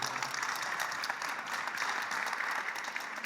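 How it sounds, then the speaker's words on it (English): Crowd clapping at a regional youth conference on mental health, fairly quiet and distant, a continuous patter of many hands with a slightly uneven rhythm and no talking. "I think we need to clap for him."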